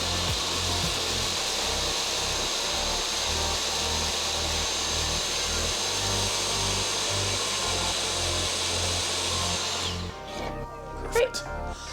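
A power drill bores steadily into drywall while a soundbar is mounted, a continuous loud whirring grind that runs for about ten seconds before stopping abruptly, followed by a few faint clicks and handling noises.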